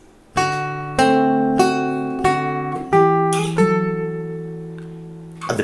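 Fingerstyle guitar picks out measures 85 and 86 of a piece from Howl's Moving Castle: a slow series of about seven distinct plucked notes and chords, each left to ring and decay, close and alone.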